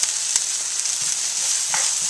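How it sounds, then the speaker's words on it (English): Onions frying in a pan for a vegan scramble, giving a steady, bright, crackling sizzle heard up close, with a few faint stirring knocks. "I got the onions frying right here"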